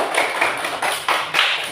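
Classmates in a school class clapping for a group, a short run of soft, uneven claps of a few hands, close and without talk.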